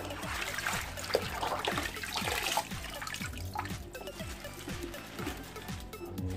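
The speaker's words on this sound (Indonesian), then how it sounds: "kita saring teman-teman ke wadah yang sudah disiapkan ini. Saring agar airnya turun ya." Water soaked with ketapang leaves strained into a container, a steady pouring trickle and splash with rhythmic gurgling pulses, close and moderately loud with no talk.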